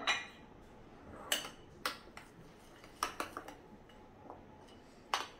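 A spoon stirs hot tempering into fresh red chilli thecha in a bowl, giving scattered sharp metallic clinks and taps with quiet pauses between them.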